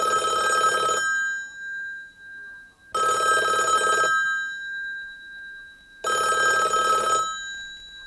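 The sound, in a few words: telephone ringing, radio drama sound effect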